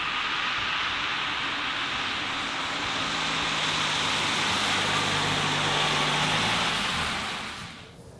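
The 2.5 hybrid combustion engine of a 2021 Toyota Highlander starting up while driving, a steady broad rushing hum with a faint low tone that swells, then fades near the end.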